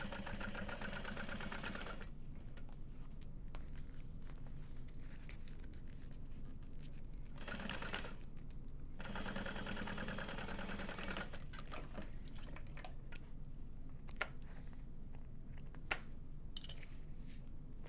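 A sewing machine stitches a tote bag seam in quick bursts of steady whirring, stopping and starting a few times and heard close and fairly quiet.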